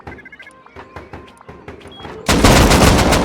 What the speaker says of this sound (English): Oh, he put down shotgun traps.